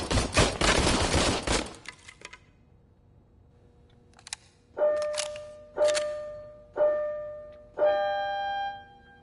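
Rapid burst of gunfire from the Robocop: Rogue City video game, followed by quieter clicks and then four evenly spaced, ringing single shots with long metallic decays, no talk.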